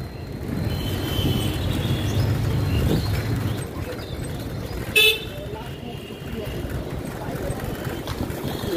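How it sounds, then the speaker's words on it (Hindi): A vehicle horn honks from behind amid busy street traffic noise in Kolkata, with voices and engine rumble around it. "गाइस ना पीछे से हॉर्न मार रहा था एक बंदा"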